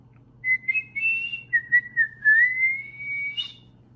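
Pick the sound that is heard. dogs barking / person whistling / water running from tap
person whistling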